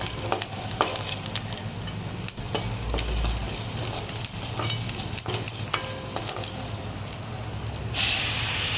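Onions sizzling as they are sautéed in a pan for a bitter gourd dish: a steady, loud, close hiss of frying with occasional scraping stirs and a brighter burst of spray near the end.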